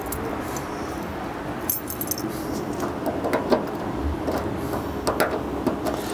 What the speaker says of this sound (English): Let's get the keys here and we'll get in the trunk.